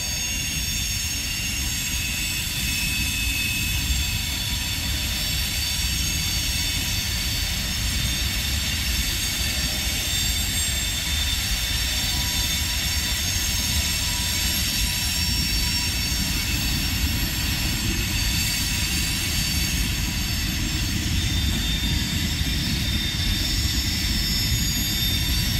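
A long freight train with locomotives rolls past close by, a loud, steady rumble of wagons and wheels that holds for the whole stretch with no letup.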